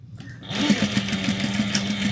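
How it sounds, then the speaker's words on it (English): A sewing machine top stitches an eighth of an inch along a pet collar at a 3 stitch length, a steady close mechanical whir with an even rapid needle beat running throughout. "I'm gonna top stitch this down using 1/8 of an inch all the way down"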